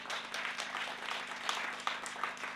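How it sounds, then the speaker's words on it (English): A crowd at a National Lotteries Commission event in eThekwini applauds at moderate distance, a steady wash of many hands clapping with a few sharper individual claps standing out. "A big round of applause, please."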